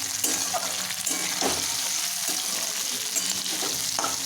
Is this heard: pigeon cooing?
no